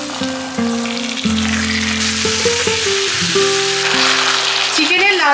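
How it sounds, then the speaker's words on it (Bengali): Onions frying in oil for chicken curry, a constant sizzle sitting under a sustained tonal background with a voice present. "পেঁয়াজটা মনে হচ্ছে আর একটু ভাজা হবে"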